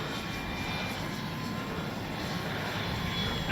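A Dynam Me BF-109 radio-controlled warbird model's electric motor hums in flight, a steady, fairly faint drone mixed with broadband wind noise outdoors, no talking.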